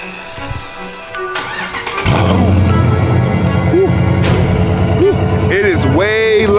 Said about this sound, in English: we're gonna go ahead and hit y'all with the cold start